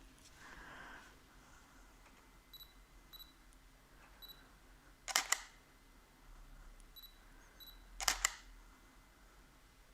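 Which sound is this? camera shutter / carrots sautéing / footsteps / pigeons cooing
camera shutter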